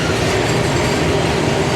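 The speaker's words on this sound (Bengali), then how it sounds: "ওদিকে গাড়ি ট্রেন যাচ্ছে আবার মাঝখানে রাস্তাতেও ট্রেন আসছে এবং এটাই একটা ট্রেন আসছে" A train rumbles past on railway tracks with a loud, close, continuous roar and rhythmic clatter throughout.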